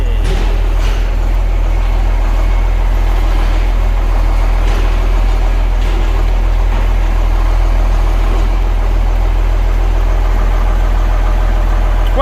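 A John Deere 4640 tractor engine running in the yard, a loud, steady low idling drone with a constant deep hum and faint clicks and knocks on top.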